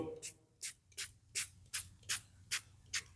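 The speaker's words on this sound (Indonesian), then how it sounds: "Kita semprot sampai semua bagian bunga ini terkena semprotan alkohol ini." A spray bottle of alcohol is pumped eight times in a steady rhythm over a flower being preserved, each short hissing burst close and clear.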